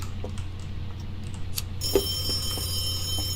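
An in-game telephone ringing in the ghost-hunting game Phasmophobia, a sustained electronic bell tone that starts partway through and continues over a quiet ambient hum, without speech.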